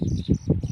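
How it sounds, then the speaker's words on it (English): A flock of birds on a Lake Victoria island calls out in alarm as a fish eagle swoops, with short, close, repeated squawking bursts in a rapid uneven rhythm. "you can see all the birds are complaining."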